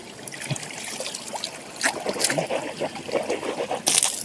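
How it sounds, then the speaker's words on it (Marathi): Water from a hill-fed channel in Konkan trickles and splashes nearby, a light burbling flow with small bursts and drips, no voices. "वाहतं पाणी आहे"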